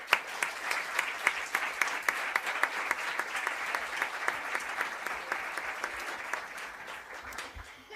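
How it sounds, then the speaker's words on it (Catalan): A crowd claps at length in a hall, with a steady wash of applause and a few crisp, distinct claps standing out near the front. "demane un fort aplaudiment"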